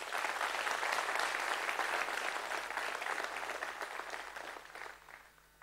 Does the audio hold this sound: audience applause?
yes